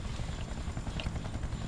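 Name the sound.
helicopter in a video game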